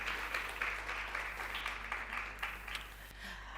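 At the Charlotte Maxeke Lecture, an audience applauds as a speaker walks to the stage: a fairly faint, steady wash of clapping over a constant low electrical hum.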